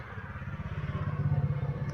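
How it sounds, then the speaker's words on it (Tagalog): A Yamaha Mio Gravis scooter engine with faulty timing and a knock runs close by in a quick, even idle putter, its pulses steady and slightly rising in loudness, with no voices. "ito po yung Mio Gravis na pinaandar ko"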